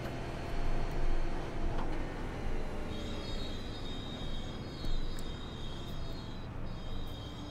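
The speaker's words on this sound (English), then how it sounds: "Man, his brakes are squeaky." High-pitched squeals from a Super Late Model race car's brakes in iRacing at Nashville Fairgrounds whine in stretches over a rumbling engine drone, like a train grinding to a stop, repeating several times.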